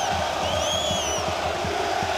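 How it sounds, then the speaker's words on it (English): Saarbrücken football fans roar in a packed stadium during a DFB-Pokal cup match against Fortuna Düsseldorf, a steady loud crowd din with rhythmic chanting pulses and whistles rising above it. "And the crowd love it."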